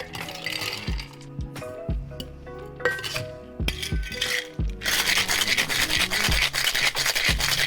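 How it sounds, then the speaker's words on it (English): Ice rattles and clinks against a metal cocktail shaker in short bursts at first, then a vigorous continuous shaking fills the second half, close and crisp. "Add ice to the shaker, give it a quick shake"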